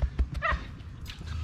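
Excited dog letting out a few quick yips and barks close by, short bursts with a brief whine amid outdoor background noise.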